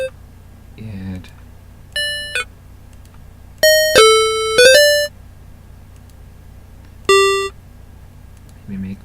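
A Watsyn wavetable synth patch plays a few separate bright, bell-like tones, some short and some held with shifting pitch, each standing alone against near silence.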